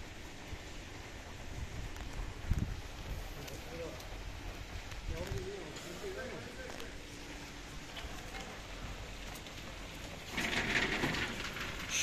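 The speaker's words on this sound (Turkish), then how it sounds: "Doğu Beyazıt'ta şu anda yağmur yağıyor" Steady rain patters continuously on a street in Doğubayazıt, Ağrı, Turkey, with faint voices murmuring in the background and the downpour growing slightly heavier near the end.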